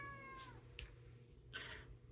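A house cat meows indoors, two or three short calls with a longer one at the end, moderately near against a low steady background hum.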